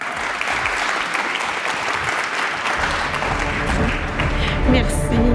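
An audience at a tech awards ceremony applauds steadily for an award presenter, a dense sustained round of clapping with a low rumble building underneath toward the end.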